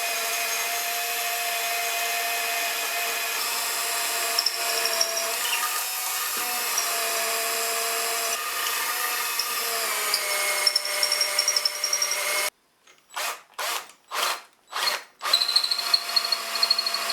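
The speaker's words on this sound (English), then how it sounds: "So I'll go and get the drill and we'll see if we can get this drilled in without causing any further problems." Power drill boring into the body of a yellow Les Paul Junior guitar, a steady high-pitched motor whine running for about twelve seconds, then a pause followed by four short bursts of the drill spinning up and stopping.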